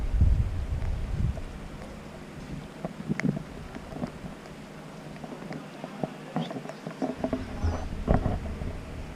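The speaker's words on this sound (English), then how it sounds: "Today is a rainy day at the marina." Rain falls steadily at a marina on a wet day, a soft, constant patter with scattered louder drips and taps over low wind rumble, faint and unbroken for the whole stretch with no one talking.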